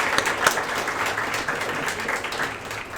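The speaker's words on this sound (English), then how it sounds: "give you all a round of applause" A crowd applauding, a continuous wash of many hands clapping at steady moderate loudness.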